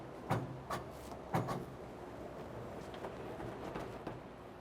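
Door of a custom 1955 Ford F100 truck pops open with two sharp mechanical clunks near the start, followed by faint rattles and handling noises in a quiet space.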